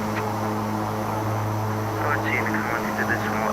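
King Air 350 turboprop in the X-Plane flight simulator gives a steady, loud engine and propeller drone with a constant tonal hum throughout, and a voice speaks over it.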